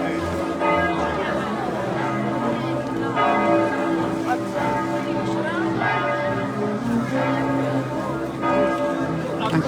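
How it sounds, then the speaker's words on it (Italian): Church bells ring repeatedly in a Sicilian village, a dense, steady peal of overlapping strikes that carries throughout, with crowd voices and talk audible beneath. "e proprio le campane stanno suonando in questo momento"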